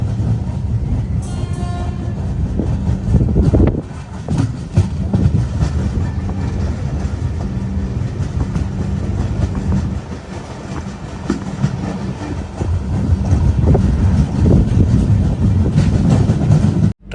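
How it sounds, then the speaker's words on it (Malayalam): The Venad Express runs on rails in Kerala near Ettumanoor station, heard from inside as a loud, continuous rumble with rhythmic wheel clatter and a few sharper knocks throughout. "ട്രെയിൻ ഇപ്പോൾ ഏറ്റുമാനൂർ റെയിൽവേ സ്റ്റേഷനിലെത്തിയേ"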